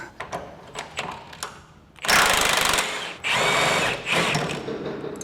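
Lug nuts on the rear wheels of a Subaru Sambar being loosened with a power impact tool, two loud sustained bursts of buzzing rattle after some quieter clicks and knocks.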